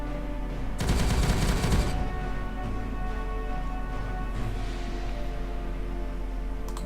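Bolt pistol fire in the Regicide video game, a dense one-second burst of rapid shots early on, over a steady low game hum and faint background effects.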